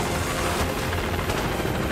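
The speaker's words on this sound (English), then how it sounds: "Oh, that's a helicopter. That's a pretty big heli." Large helicopter in the Call of Duty Modern Warfare 2 Remastered video game, a loud, dense rotor roar that fills the scene, with gunfire and explosions mixed into the steady rumble.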